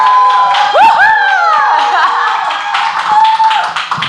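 Audience at a Wonju Nu Skin business seminar breaks into steady clapping and cheering to welcome a speaker, with a few whistles rising above the crowd throughout.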